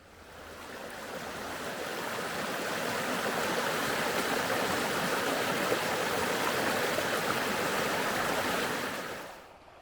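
Continuous rushing of flowing creek water, swelling in gradually and holding steady before cutting off near the end.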